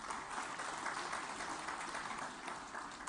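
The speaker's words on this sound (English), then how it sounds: "may I hear a big round of applause for this" A large audience applauds at the Plastindia 2023 plastics industry event in Hyderabad, with steady, dense clapping at an even level for about three seconds and no voices standing out.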